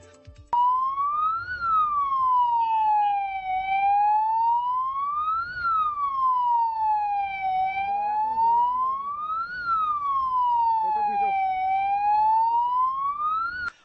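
An ambulance siren wails steadily in a slow rising-and-falling cycle, loud and close, while stuck in a traffic jam, with faint traffic noise underneath and no talk.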